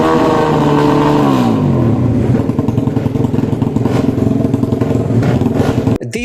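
Several 165cc racing motorcycles roar loudly and continuously, engines revving with pitch sweeping downward as they pass, a steady dense race-track drone that cuts off abruptly near the end.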